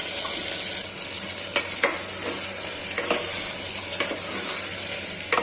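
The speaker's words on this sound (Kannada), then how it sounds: "ಹಾಕ್ಬಿಟ್ಟು 1-2-3 ನಿಮಿಷ ಚೆನ್ನಾಗಿ ಫ್ರೈ ಮಾಡಿ ಹೆಸರು ಕಾಳನ್ನು" Moong beans sizzle steadily as they fry in a pan, a constant bright hiss broken by a few soft clinks and scrapes of stirring, close and alone without talk.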